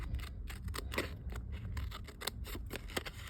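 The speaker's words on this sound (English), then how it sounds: "I'm just going to use my scissors and just follow where I cut" Close, quiet snips of scissors cutting through paper card, a quick irregular series of crisp clicks and slices with no talking.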